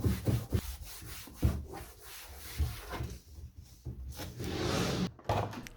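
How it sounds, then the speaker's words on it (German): Dusty drawers in an art studio are wiped out with wet wipes, giving rhythmic rubbing and scrubbing strokes against the drawer surfaces, close and steady, with a few light knocks of the wood. "Ich wische zuerst den Staub aus allen Schubladen und putze sie danach mit"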